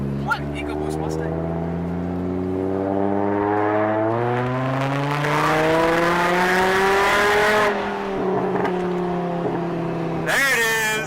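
A car with a straight-piped exhaust and a G35 downpipe accelerates hard through several gears, its engine droning loud and close as the pitch climbs, drops at each shift and climbs again.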